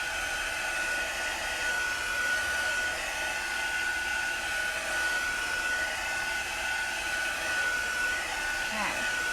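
A hair dryer blows steadily and loud for the whole stretch, drying a chalk paste transfer on a wooden Christmas tree cutout, with a constant whine over a broad airy rush.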